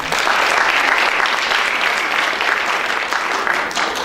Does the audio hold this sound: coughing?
no